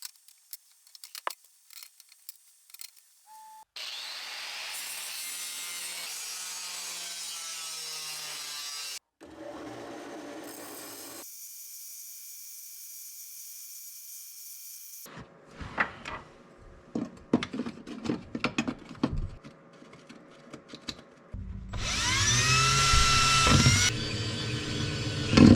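Metal plates for a DIY transmission crossmember are cut with tools in several separate bursts of harsh, close-up grinding and scraping, with pauses and clicks between them.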